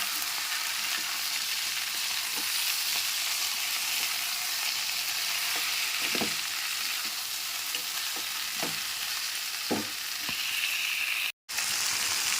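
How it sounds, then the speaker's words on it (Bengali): Potato, shrimp and eggplant are stir-fried in a pan with no water, a steady hiss of sizzling broken by irregular scrapes and knocks of a spatula, ending with a brief dropout. "ভালো করে ওলট পালট করে ভাজা ভাজা করব।"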